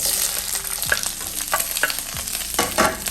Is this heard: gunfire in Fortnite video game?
no